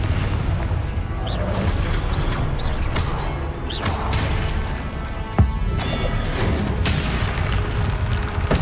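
Confringo spell effects in the Hogwarts Legacy video game: repeated whooshing blasts, bursts and crackling impacts over a dense, continuous game soundscape, with one sharper pop standing out midway.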